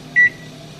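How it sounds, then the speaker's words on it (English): A single short electronic beep from a microwave oven as a 4-minute timer is set in a home kitchen, close and clear over a low steady hum. "Now we're gonna set a timer for 4 minutes."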